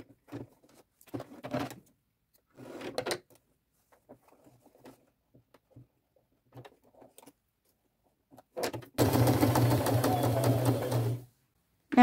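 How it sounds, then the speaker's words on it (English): A sewing machine stitches fabric for a drawstring purse, running in one steady, loud mechanical burst of about two seconds after scattered faint handling and rustling sounds. "come down 2 inches and start sewing here and all the way around"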